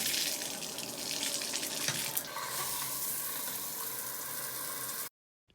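Shower water runs in a steady, close hiss of spray for about five seconds before cutting off abruptly, with no voices.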